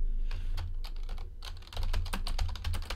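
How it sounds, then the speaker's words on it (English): Rapid typing on a computer keyboard, with dense, quick clicking keystrokes that speed up into a busy patter over a low background hum, close and clear. "I type pretty quickly"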